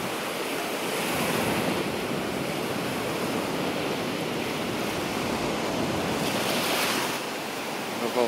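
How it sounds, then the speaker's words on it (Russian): Baltic Sea surf washing onto the shore at Šventoji, a steady broadband roar of breaking waves close by, swelling slightly and easing again, with wind noise rushing over the microphone. "Вот оно, Балтийское море."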